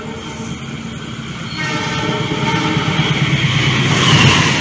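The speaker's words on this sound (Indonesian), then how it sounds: "Kereta api Gajayana KA36." The Gajayana passenger train rumbles past steadily, growing louder as it nears, with a sustained horn tone held through the passage.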